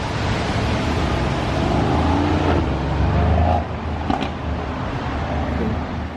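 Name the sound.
Mercedes-AMG coupe accelerating away from traffic light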